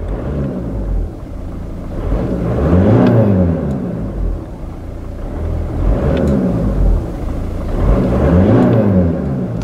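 A modified 2006 Seat Leon diesel with a turbo and an aftermarket blow-off valve revs in repeated surges. The exhaust rumbles loudly and close, rising in pitch with each blip before settling back to idle.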